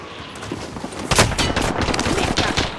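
Rapid gunfire from the video game Call of Duty: Modern Warfare, with dense overlapping shots and bursts running steadily throughout, a sharp louder volley near the middle, mixed with game ambience.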